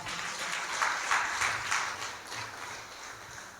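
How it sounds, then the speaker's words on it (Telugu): Congregation clapping together during a Sunday church service, a steady broadband patter of many hands with a few louder bursts, moderately distant and fairly even throughout. "చప్పట్లు కూడా దేవుని స్తుతిస్తారా?"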